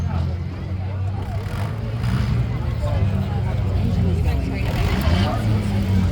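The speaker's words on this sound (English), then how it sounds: "that pink M&M S8 car trying to refire on the clock here" At the Allen County Fair demolition derby, the pink M&M-themed S8 car's engine rumbles and sputters as it tries to refire, sitting under an announcer's continuous commentary and crowd noise.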